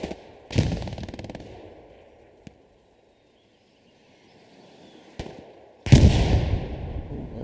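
Gunfire and explosions in the World War II shooter Hell Let Loose: a few sharp bursts and cracks with long decaying echoes, separated by quiet stretches, the last blast loudest and close.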